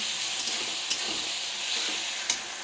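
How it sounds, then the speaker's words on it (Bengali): Spiced meat masala being fried down in a pan for chicken biryani, a dense, even hiss of sizzling oil close by with a couple of light spatula taps and no talking. "মাংসর মশলাটা কষে নিচ্ছি"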